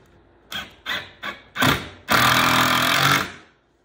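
A power drill drives a screw into a wooden pirate chest toy box. It gives four short whirring bursts, then one longer sustained run that winds down, close and loud with no talk.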